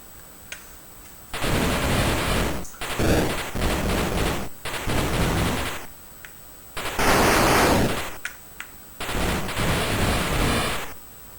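Gunfire shooting in the Atari video game Dark Chambers: loud, harsh bursts of noisy retro shots come in repeated blocks about a second or two long, separated by brief quieter gaps.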